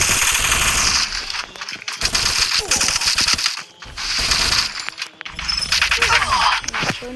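Loud, close bursts of automatic gunfire in the Free Fire video game come in several rapid volleys separated by short gaps, with a voice talking over the shooting.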